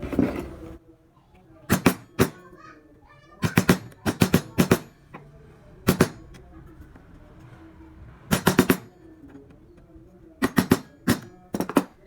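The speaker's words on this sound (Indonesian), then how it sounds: "Nah setelah itu kita rapikan bagian pinggir-pinggirnya menggunakan pahat kol." A chisel is tapped along the edges of a traditional wood carving. The sharp knocks come in clusters of two to four, close and loud, with quiet pauses between the groups.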